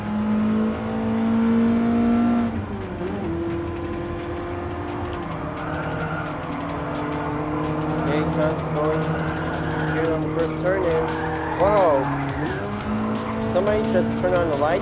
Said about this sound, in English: let's just kick up the engine on the first gear